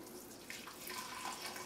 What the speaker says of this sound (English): let's pour in the coffee first